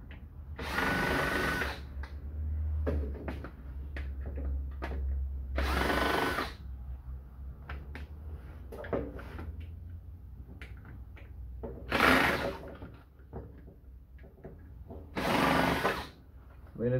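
Screws being removed from a receiver radio during scrapping, with a power driver whirring in repeated short bursts of a second or so, separated by lighter clicks and handling noises of metal parts over a low background hum.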